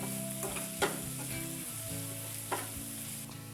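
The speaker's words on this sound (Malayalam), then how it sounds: "ഇനി ഇത് നന്നായിട്ട് നമുക്ക് വഴറ്റിയെടുക്കാം." Clam meat with garlic, salt and turmeric sizzles steadily in a pan. A utensil scrapes and knocks against the pan now and then as the mix is stirred, close up, with nobody talking.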